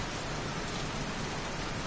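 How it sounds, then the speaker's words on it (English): Steady rain in the Heavy Rain video game, a dense continuous hiss of falling water with no pauses, moderately loud and heard alone without voices. "Goddamn rain, soaking wet."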